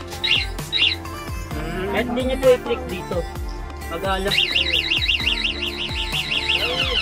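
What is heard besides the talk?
e-bike anti-theft alarm sounding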